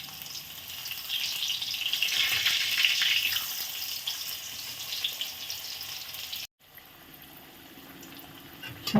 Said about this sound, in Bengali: গরম হয়ে গেছে। এখন আমি ভেজে নেব।